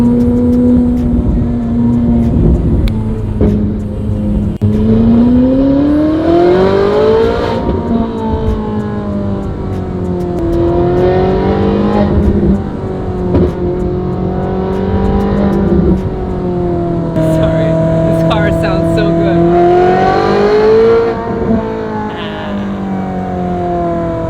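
A Ferrari 458 with its naturally aspirated engine being driven on the road, heard close up from inside as the revs rise and fall through repeated gear pulls, loud and continuous with no talking.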